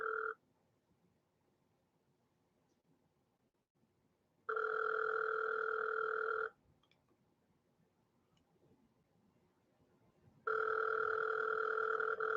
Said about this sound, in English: Walmart is officially not answering the phone.